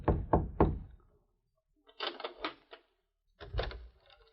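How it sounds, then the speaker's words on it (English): Soft knocking on a hotel room door in Mayville, staged as a radio drama effect: three quick raps, a pause, then two more clusters of muffled knocks, close and quiet with silence between. "Nick rapped softly on the door of a hotel room in Mayville."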